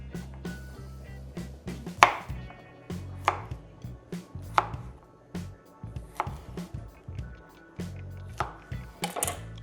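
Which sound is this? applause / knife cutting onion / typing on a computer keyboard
knife cutting onion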